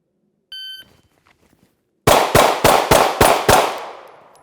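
A SIG P365-MACRO TACOPS pistol fires six rapid, loud, close shots on a range, following a brief shot-timer beep and a short quiet pause.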